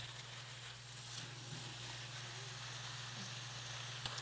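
Aromatics and meat stir-fry in hot oil in a wok for mapo sauce, giving a steady, faint sizzle under a constant low hum, with a small clink near the end.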